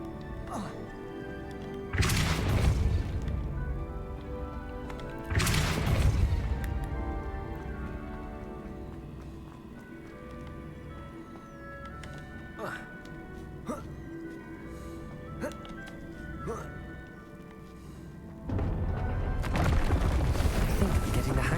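Depulso spell cast in the Hogwarts video game: loud, sharp blasts of force, three separate bursts over a steady musical background, with a pause between them.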